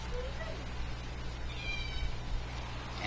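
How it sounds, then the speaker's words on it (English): Pet cats meowing in a room behind sports commentators, short faint cries rising over a steady low hum, partly masked by background noise. "our cats are going wild behind us"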